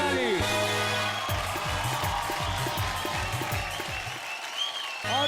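Audience applause at a comedy and poetry show, dense clapping from a crowd filling the whole stretch, strong and steady before easing slightly near the end.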